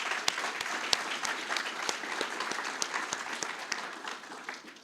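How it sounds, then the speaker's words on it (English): Audience applause at a BSides Portland 2018 security conference talk, dense and sustained clapping from a full room with sharp individual claps standing out, fading slightly toward the end. "we should give a round of applause to the BSides crew for putting this together,"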